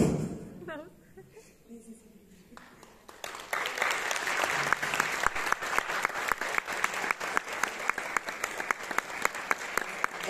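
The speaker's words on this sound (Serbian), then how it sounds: "još jedan aplauz za ove divne njene dame" Audience at an Indian culture and music evening breaking into sustained applause after a quiet opening with a brief voice, the clapping dense and loud through to the end.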